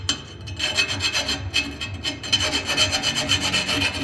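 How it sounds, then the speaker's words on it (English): A hand file rasping back and forth inside and around drilled holes in a metal exhaust pipe, with quick repeated close strokes in a steady rhythm. "I'm just going to take my file from the inside of the pipe and also utilize it around where I drilled"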